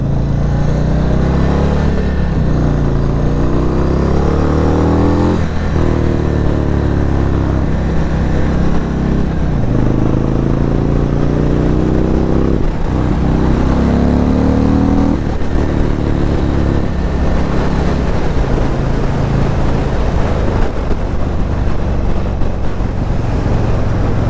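A Stage 2 2022 Indian Chief Dark Horse motorcycle ridden hard, its engine droning loud and close with repeated rising revs through the gears, each pull swelling then dropping at shifts, under steady wind rush.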